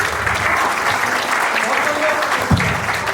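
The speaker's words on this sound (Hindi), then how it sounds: "बहुत एक बार जोरदार तालियां" Loud, steady applause from an audience at a Hindi poetry recitation, a dense continuous wash of clapping that holds throughout with a brief thump near the end.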